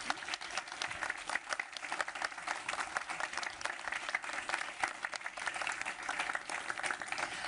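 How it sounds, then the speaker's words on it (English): Audience applause for distinguished panelists at a demining conference media briefing, a steady, dense wash of clapping from a large room, even and sustained throughout, somewhat distant and moderate in level. "I invite the audience to give a round of applause to our excellent"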